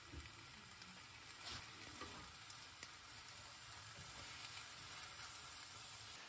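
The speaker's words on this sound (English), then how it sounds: "So I'm just going to pop them into my frying pan and literally just toss them through for a minute or so." Courgette ribbons sizzle steadily in a hot frying pan as they are tossed and griddled, a continuous close frying hiss with occasional louder crackles and no talking.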